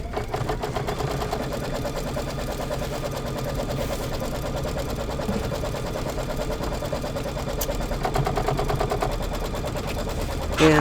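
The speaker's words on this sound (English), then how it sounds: "I'm going to go ahead and bring it back to the machine, and now it's going to stitch the placement for the fabric." A sewing machine stitches a fabric placement line for a quilt-along block, with a rapid, even mechanical chatter that runs close and continuous throughout and rises slightly at the very end.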